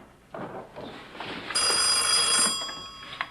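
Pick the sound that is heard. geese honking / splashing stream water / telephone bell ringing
telephone bell ringing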